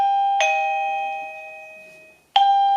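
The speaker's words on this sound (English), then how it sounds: "It chimes on either sensor." A mydome driveway alarm chime unit rings out two chime tones, the first sustaining and slowly fading for about two seconds before a second strike sounds; clear, close and alone.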